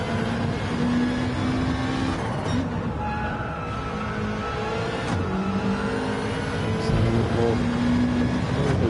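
Gran Turismo 7 race cars, a Supra and a Corvette, circling the Red Bull Ring in an endurance race: engines drone and whine continuously at steady loudness, the pitch rising and falling as they accelerate, with faint commentary underneath.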